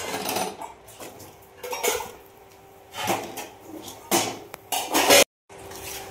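Elephant apple (chalta) pickle being stirred in a metal pot, with bursts of clanking and scraping utensil strokes against the pot separated by short pauses, close and fairly loud.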